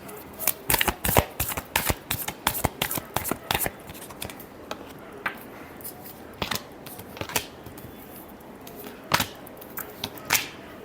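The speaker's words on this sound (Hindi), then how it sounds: "Last shuffle." Tarot cards are shuffled by hand close up, giving a rapid series of crisp riffling and slapping flutters that thin into sparser snaps toward the end.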